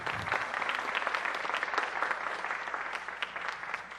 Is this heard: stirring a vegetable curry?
no